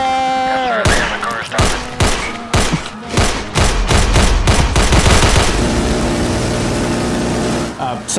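Loud gunfire in an action game firefight, a rapid series of sharp shots followed by sustained automatic bursts blending into dense noise, with a low engine-like drone underneath.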